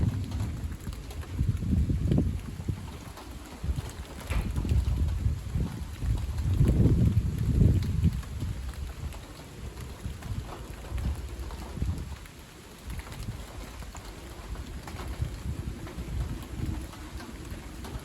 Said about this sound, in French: Le vent s'est renforcé d'un seul coup.